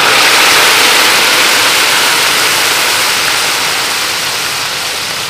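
Browned onions sizzle loudly in a pot of mutton stock for mutton pulao, a steady dense hiss with no talk, easing slightly toward the end.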